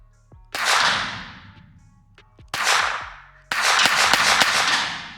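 A cheap one-star pistol fires several shots outdoors, sharp loud cracks with long ringing tails, two spaced apart and then a quick string of rapid shots, no voices.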